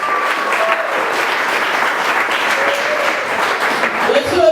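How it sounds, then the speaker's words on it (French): A church congregation breaks into sustained, steady applause that fills the room from start to finish, with a few faint voices calling out over the clapping. "Est-ce que tu peux acclamer pour la parole?"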